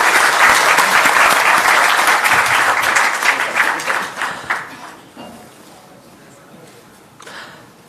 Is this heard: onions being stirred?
no